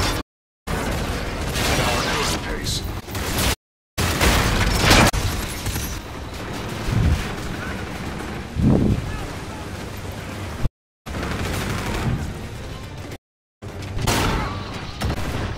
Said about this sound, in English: Vortex gun, here we go